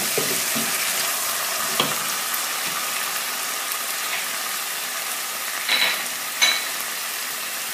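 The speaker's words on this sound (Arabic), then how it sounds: "الزيت راه سخنات درنا فيها الشرمولة" Steady, loud sizzling of chermoula frying in hot oil for Moroccan fava beans, a continuous crackling hiss with a few brief clinks from a utensil.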